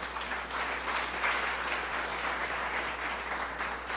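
A church congregation applauds steadily, dense clapping filling the space at an even, moderate loudness without a break.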